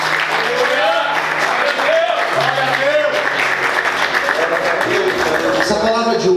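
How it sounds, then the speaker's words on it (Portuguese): Church congregation clapping loudly and steadily during a worship service, applause filling the room while a voice talks and sings over it throughout. "Bem fortes palmas."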